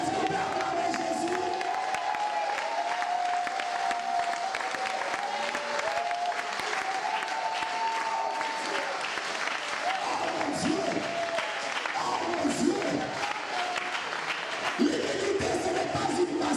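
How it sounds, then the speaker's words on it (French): A church congregation applauds and cheers in acclaim of Jesus during a French-language service, with steady sustained clapping, scattered shouts and whoops, and a sung or held tone running underneath throughout. "Est-ce qu'on peut acclamer Jésus?"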